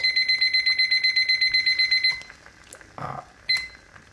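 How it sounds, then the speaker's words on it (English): A kitchen timer set while cooking beef nihari in a pressure cooker goes off with rapid, shrill electronic beeps for about two seconds, then stops after a clunk and handling noise, followed by one brief final beep. "set the timer now"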